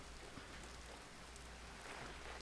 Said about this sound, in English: It's rainy out here.